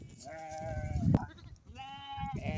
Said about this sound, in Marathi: बघा मित्रांनो रोडाच्या पलीकडे मेंढ्यात आता कशा चरतात बघा